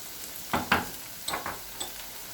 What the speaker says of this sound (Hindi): अब इसमें टमाटो पेस्ट डाल देंगे